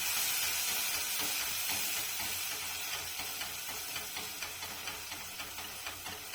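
Poppy seed paste hits hot oil in a pan for potol posto, giving a steady close sizzle and frying hiss that eases slightly over time, with faint stirring clicks.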